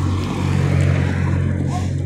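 Motorcycles pass by on a road outdoors on a spring day, a steady loud engine drone with a low rumbling hum lasting throughout, close and continuous without a clear rise or fade.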